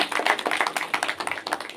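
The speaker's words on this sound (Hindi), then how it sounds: "आप सबकी करतल ध्वनि इस पूरे सभागार को गुंजायमान करे। आप सभी के लिए है आपकी ये तालियां।" Applause from an audience filling an auditorium at a national teachers' award ceremony, a steady dense patter of many hands clapping throughout, with no talk.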